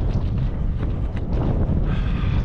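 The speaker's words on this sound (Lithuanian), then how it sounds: "vėjuota šiandien daug labiau" Strong wind buffets the microphone in a constant, low roaring rush, gusting slightly louder in places, with no voices.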